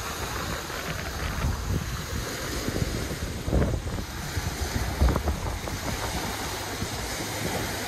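Strong wind and breaking waves roll onto a lake beach in Texas after a storm, a loud, continuous roar with gusty microphone buffeting and repeated surges of surf.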